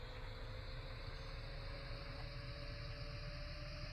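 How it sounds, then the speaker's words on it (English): A Fendt tractor engine runs in Farming Simulator 15, a steady, smooth low drone with a faint tonal hum on top, fairly quiet and even with no rumble spikes and no talking. "It's not super loud, you know, it's a Fent, so it doesn't make the rumbly sort of straight pipe noise"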